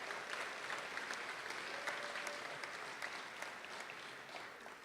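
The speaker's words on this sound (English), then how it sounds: "let's have a round of applause for our faculty readers" An audience at a School of Education spring convocation ceremony claps in a continuous, moderately distant round of applause that tapers off slightly by the end.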